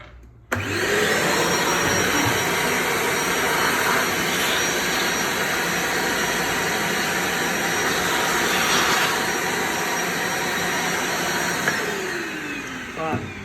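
A vacuum cleaner draws steadily at the inner chamber of a Robur SE coffee grinder, starting abruptly and holding one loud, continuous roar for about thirteen seconds. Its pitch shifts slightly as the nozzle moves, and no one speaks.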